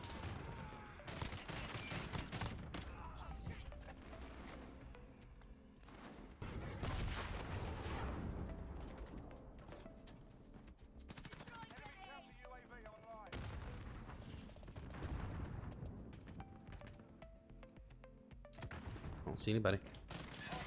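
Gunfight gunfire in Call of Duty Modern Warfare, with burst guns: repeated volleys of shots and booms throughout, fairly faint overall, with someone talking briefly over the action.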